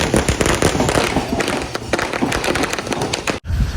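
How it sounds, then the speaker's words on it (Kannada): A string of firecrackers goes off at a village Independence Day celebration in Kembaliganahalli, a rapid loud crackle of close pops that runs continuously before cutting out abruptly near the end. "ಏನಪ್ಪಾ ಪಟಾಕಿ ಹಚ್ಚವ್ರೆ ಅಂತ ನೋಡಿದ್ರೆ"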